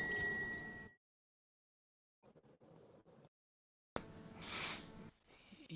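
A bell rings in the Elden Ring video game, heard as quiet, bright clanging tones in short bursts separated by silence, with the louder ringing near the end of the stretch.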